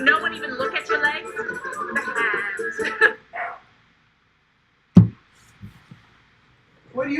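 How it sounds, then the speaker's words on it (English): Dog barking in another room, heard as a few scattered yips and a sharp bark after a stretch of talking, distant and muffled with silent gaps between. "My dog's barking in the other room."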